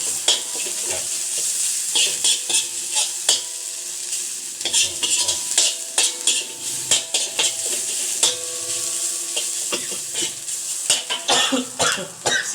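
Chilies frying in hot oil for a northern Thai backyard-kitchen dish, a constant loud sizzle with repeated scraping stirs of a spatula in the pan and occasional coughs.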